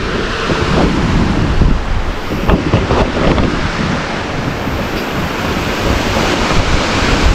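Strong ocean waves surge and break on the shore in a steady, loud roar, mixed with gusty wind buffeting the microphone, with no voices.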